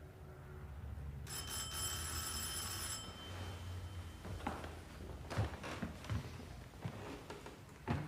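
A telephone rings faintly with a bright, trilling electronic bell lasting a couple of seconds, followed by quiet shuffling sounds and soft knocks.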